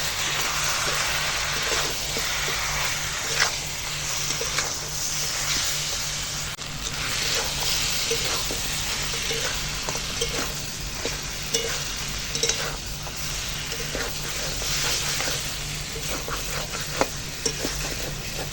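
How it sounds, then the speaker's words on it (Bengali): Goat head meat being stirred and fried in a pan with Kashmiri chili powder, hot chili powder, turmeric and salt, a steady close sizzle broken by repeated scraping stirs throughout, with no talking. "এখন মাংসটা কষাবো"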